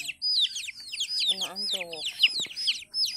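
A plump mother hen and her chicks, with rapid high chick peeps throughout and a few low hen clucks in the middle, close and busy, with no talk over them.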